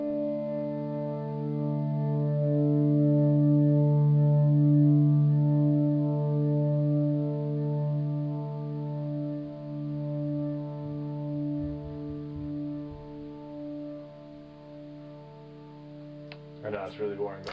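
Electric guitar volume swells played through a delay pedal set for a long swell, with layered notes sustaining and slowly fading in long repeats; a brief voice cuts in at the very end.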